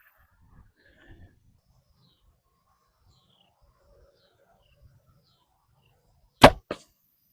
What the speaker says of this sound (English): we're gonna shoot each one of these last two arrows at it